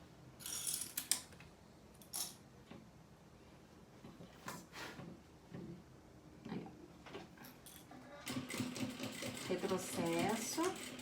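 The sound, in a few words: sewing machine stitching a small pencil case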